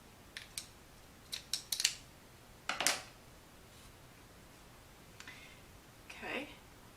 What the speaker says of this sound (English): Cut off the yarn